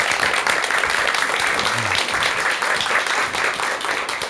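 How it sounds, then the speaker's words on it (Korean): Lecture audience breaking into applause, a steady burst of many hands clapping throughout, fairly loud and close, with a brief low murmur of voices mixed in. "여러분 큰 박수 부탁드리겠습니다."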